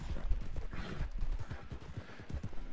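Hooves thud in a rapid, uneven rhythm as a horse gallops in Red Dead Online, the clip-clop close and fairly loud, mixed with low rumbling game noise.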